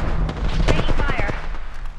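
Gunfire in the Apex Legends video game, a quick string of loud punchy shots over about two seconds, close and sharp against game noise.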